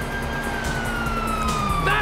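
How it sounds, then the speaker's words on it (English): Wailing police sirens in the video game GTA 5, a sustained falling tone over low engine and street noise, fairly near and steady, with a second siren sweep rising at the end. "Oh, fuck, you hear that? Sirens."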